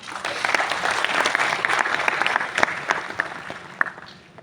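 Audience applause at a constitutional law event with India's Union Law Minister, a lively, sustained round of clapping with sharp individual claps standing out, tapering slightly near the end.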